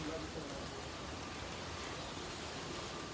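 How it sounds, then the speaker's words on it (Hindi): Light rain falls steadily as a soft, even hiss on a mountain pilgrimage trail near Katra on the way to Vaishno Devi, continuous and close throughout. "बारिश हो रही है"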